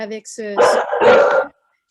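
A dog at a tribute evening gives a couple of short yips followed by two louder, longer barks, close and loud, then falls silent.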